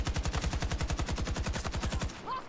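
Rapid automatic gunfire from a Battlefield 2042 match, a steady close burst of evenly spaced shots rattling for about two seconds before cutting off, followed by a brief faint in-game tone.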